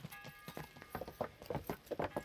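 Horse hooves clip-clopping in Kingdom Come: Deliverance, a steady run of crisp hoof strikes on hard ground at a walking pace, moderately near and fairly quiet.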